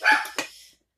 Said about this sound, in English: My dog will not shut up.